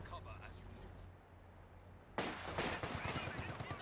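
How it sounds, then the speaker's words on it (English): Machine gun fire in Company of Heroes 2 from a paratrooper squad: a rapid rattling burst starts partway through and keeps going, loud and dense, after a stretch of low rumbling battle noise, with a voice talking over it. "Got the paratrooper squad firing away."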